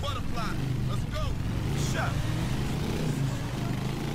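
A motorcycle engine drones loud and steady in GTA IV The Lost and Damned, its continuous roar filling the scene while someone talks over it.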